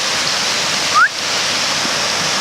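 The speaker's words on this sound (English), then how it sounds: "So you've got like a waterfall there, kind of, and like the main waterfall is just over there." A waterfall in Nannup forest roars as a steady, loud wash of rushing water, with a brief high chirp cutting through once near the middle.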